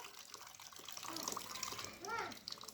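Water pours and splashes softly into a pot outdoors, a faint continuous trickle with a voice and other speech over it.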